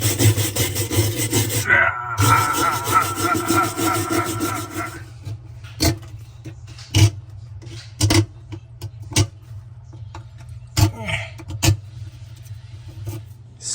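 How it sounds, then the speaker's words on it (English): Metal tool scraping gunk out of the splines of a Whirlpool washer basket hub, loud continuous rasping for about five seconds followed by a series of short, sharp scrapes and knocks. "I'm going to continue scraping gunk out of the splines"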